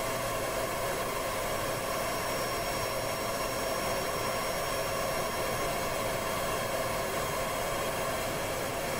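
Jet engine of a Kerbal Space Program aircraft roaring steadily through an uphill takeoff, a dense, constant broadband rush with no talk over it.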